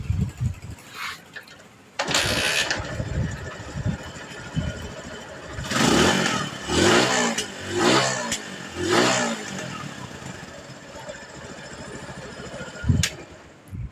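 A motorcycle fitted with a new pickup coil cranks and fires up, then revs in four distinct rising-and-falling bursts before settling to a quieter idle, close and loud.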